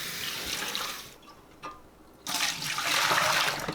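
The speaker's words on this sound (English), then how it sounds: "you're gonna wanna really rinse this out very well" Tap water splashes and rushes into a jun or kombucha brewing vessel during rinsing, loud at first, briefly easing to a trickle, then surging back to a strong close pour.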